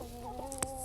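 Backyard chickens in a hoop coop clucking softly in a brief moment, low murmuring notes with a faint sharper peep, under a steady background hum.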